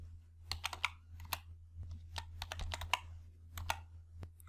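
Keys tapped on a computer keyboard at an uneven pace, a couple dozen crisp clicks close by with short pauses between clusters, no voices.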